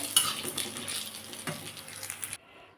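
Prawn head pakoda fritters frying in hot oil in a pan: a continuous close sizzle with light metallic clinks and scrapes of a utensil, ending abruptly in near silence, without speech.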